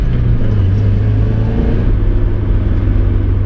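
A Mazda Miata running on an empty road during moderate brake stops gives a steady low engine and road rumble that eases into a lower drone partway through, heard from inside the car with no talk.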